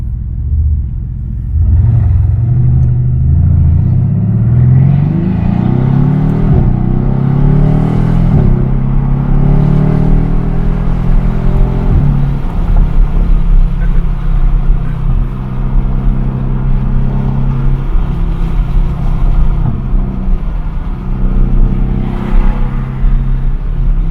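A twin-turbo V8 Mercedes AMG GTR with a Meisterschaft exhaust and 600 wheel horsepower rumbles loudly nearby, swelling through a rising rev before settling into a deep, steady idle drone.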